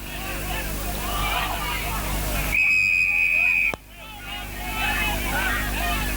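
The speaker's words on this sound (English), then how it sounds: "The umpire there blowing his whistle." A single sharp, high umpire's whistle blast at an Australian rules football match lasting about a second, cutting through background water sloshing and voices.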